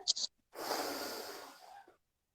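A person takes one long, deep inhale through the mouth during a voice and breathing exercise, a close, airy rush lasting over a second after a brief click, with no talking.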